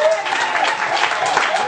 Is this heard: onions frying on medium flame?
no